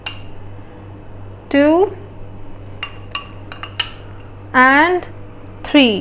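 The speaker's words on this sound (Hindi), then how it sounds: "I am adding now 3 tablespoon Aonla powder." A metal spoon clinks sharply against a bowl in several ringing strikes while amla powder is added for a hair mask, with a steady low hum underneath and a voice briefly speaking.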